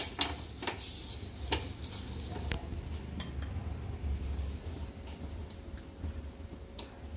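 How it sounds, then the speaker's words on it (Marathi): Oil spread on a hot pan before amboli batter goes in, with a steady frying sizzle, scattered metallic clicks and taps of utensils on the pan, and a quiet kitchen backdrop. "आता वहिनी आंबोळ्या टाकतायत, तिथे पॅनला तेल लावून घेतात"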